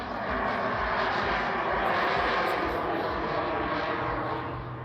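A jet-powered Pitts aerobatic biplane flies an airshow display at Sanicole, its engines producing a loud, continuous roar that swells slightly and then eases as it passes.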